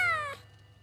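A cartoon kitten gives a single short, high meow up close, which ends abruptly into near silence.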